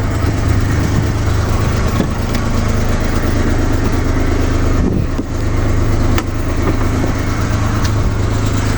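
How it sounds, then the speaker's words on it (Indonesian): The engine of a 1986 Daihatsu Hijet 1000 idles steadily and loudly up close with an even, smooth low hum, running without its air filter fitted. "Nah, mesinnya lumayan halus."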